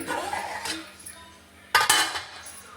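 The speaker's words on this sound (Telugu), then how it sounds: "ఇది తీస్తున్నాను మూత" A metal lid comes off a cooking pot of fish curry with a sudden close clink and brief clatter, after a quiet stretch of faint kitchen noise.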